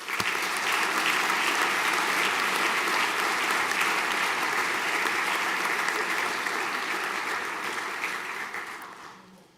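A crowd applauds at a senior school prizegiving as a University of Otago scholarship is awarded. The dense, steady clapping holds for about eight seconds and then thins and fades out, with no voices over it.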